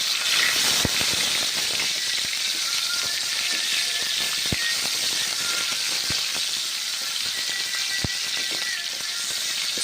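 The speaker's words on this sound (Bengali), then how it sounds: "পেঁয়াজ গরম তেলের মধ্যে দিচ্ছি, টমেটো দিচ্ছি, ভেজে নিচ্ছি গরম তেলের সঙ্গে" Onion and tomato frying in hot oil give off a loud, steady sizzle and hiss with occasional sharp crackles and spatters, close up and with no speech.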